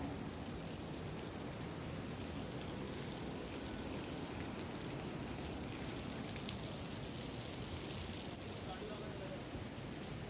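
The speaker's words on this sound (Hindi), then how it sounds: "यहाँ देखिए पहाड़ों से पानी ऐसे गिरता रहता है।" Water pours steadily down from the mountains along the Kedarnath trek, a constant dense rushing hiss that fills the whole scene without pause.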